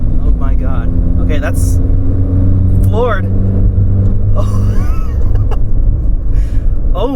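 1988 Pontiac Fiero engine at full throttle, a low, droning engine note held steady under excited talk and exclamations from people in the car.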